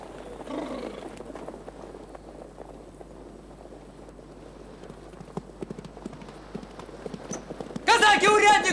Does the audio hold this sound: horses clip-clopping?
yes